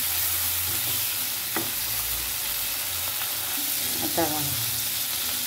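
Vegetables fry in a pan with a constant loud sizzle and a few scraping stir clicks, while a person speaks briefly over it.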